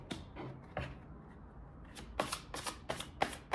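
A deck of tarot cards is shuffled in a quiet room: a few scattered flicks, a short pause, then a quick run of crisp riffling bursts close by.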